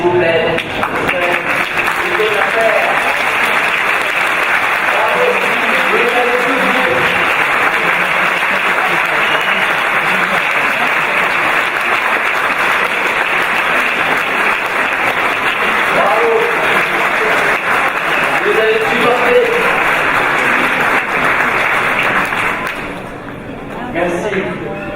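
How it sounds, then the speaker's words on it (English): Graduates at a University of Geneva EMBA ceremony applaud their families in the hall, a loud, dense, sustained clapping from a large crowd that runs without a break before tapering off at the very end. "que vous tourniez vers la salle et que vous applaudissiez vos familles"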